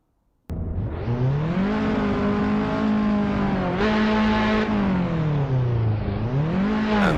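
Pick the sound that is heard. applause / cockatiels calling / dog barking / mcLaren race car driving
mcLaren race car driving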